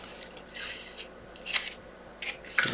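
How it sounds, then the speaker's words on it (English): Scissors snipping through cardstock for a folded greeting card, a few short crisp cuts spaced about a second apart, close and clear with no talking. "Right, I'm just going to cut a little bit off there"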